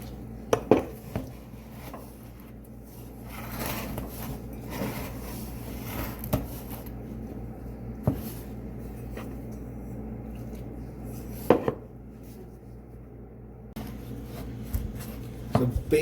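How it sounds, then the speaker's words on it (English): Blue frybread dough is mixed by hand in a bowl, giving soft, irregular squishing and scraping with occasional sharp knocks against the bowl, close up and with no talking. "Just mix it until it becomes a giant dough ball."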